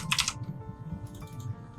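Computer keyboard keys tapped in two short bursts of typing, near and fairly quiet, with a low hum running underneath.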